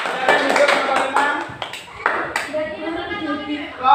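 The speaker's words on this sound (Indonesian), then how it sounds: "Oke, tepuk tangan" A classroom of elementary pupils claps for a student group, with quick, uneven hand claps over the first half alongside children's and a teacher's voices, then fading under continued talk.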